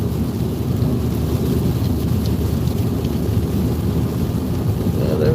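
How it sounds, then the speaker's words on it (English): A thunderstorm in Mississippi, heard from a storm-chasing vehicle heading into it, gives a steady low rumble of thunder mixed with wind and rain noise that fills the whole stretch at an even level, with no speech. "thunderstorms that we're headed into."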